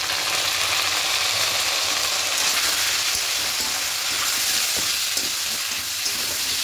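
Ginger-chili paste with cumin, coriander and turmeric powders frying in a pan for vegetarian khichuri, a steady dense sizzle held close and loud throughout with no talking.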